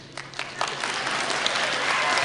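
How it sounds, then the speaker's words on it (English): An audience at a school spring concert bursts into applause, a dense wash of clapping that builds quickly and holds steady and loud, with some talk mixed in. "Hurry up and clap before he gets it wrong"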